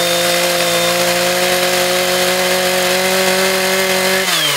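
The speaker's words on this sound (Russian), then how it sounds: "А вот гидравлическое оборудование и пилы." A rescue saw from Emergencies Ministry (MChS) firefighting equipment, shown in a demonstration, runs at a steady, loud, sustained high whine, cutting without pause before the pitch drops near the end; no voices.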